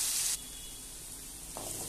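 Garlic cloves and ginger paste fry in oil in a kadai: a sharp burst of loud sizzling hiss, a quieter lull, then the sizzle swells again.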